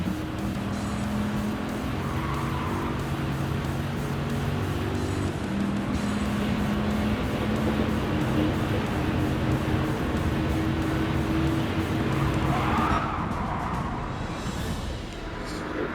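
Dodge Viper GTS engine in Gran Turismo 7, a steady loud droning roar held at sustained revs with shifting tonal pitch and a couple of brief surges, continuous throughout without talk.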